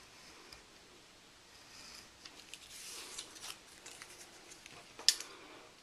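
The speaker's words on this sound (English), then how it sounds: "I'm just going to run it along that edge there and cut these pieces off" A craft blade slicing paper pieces along the edge of a paper coffee cup cutout, with soft scratchy rasps and light ticks building up over several seconds, ending in one sharper snip, close and quiet.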